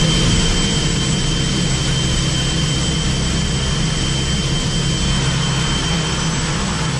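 An OV-10A Bronco aircraft in a demo display at an air show, a loud, steady, continuous engine roar with no breaks and no talk.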